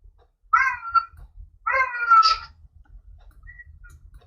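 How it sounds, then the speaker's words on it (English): A cat meows twice in close succession, clear and fairly near, against quiet low background rumble. "Sound like a cat."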